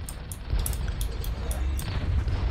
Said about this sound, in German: So, drei Schüsse, pium. Und schon bin ich tot.